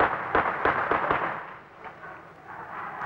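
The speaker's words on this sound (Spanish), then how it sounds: "la policía contesta con disparos de bombas de gases lacrimógenos" Tear gas grenades fired by police at a student protest crack in a quick run of about five sharp reports over the first second, then the noise settles into a busy crowd wash of shouting and movement.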